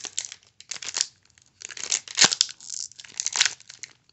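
A trading card mini pack is torn open by hand. Short, crisp bursts of foil tearing and crinkling come close up in irregular spurts, with brief pauses between pulls.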